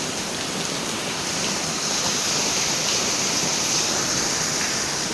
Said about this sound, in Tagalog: Baha. Baha.